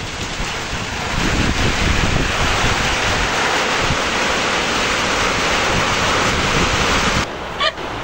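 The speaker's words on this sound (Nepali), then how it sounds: "It's raining very heavily." Heavy rain pours down in Jyamire, Sindhuli, as a steady, dense roar that starts after a moment and holds at full strength before cutting off near the end, with no one talking.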